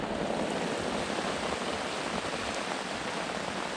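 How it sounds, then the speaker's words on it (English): Steady, heavy rain pours down continuously over a river, a dense hiss with no pauses and no voices. "Well and truly raining now."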